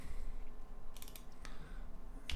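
Fingers tap quickly on a computer keyboard, a short burst of light clicks over faint room hiss, close but quiet.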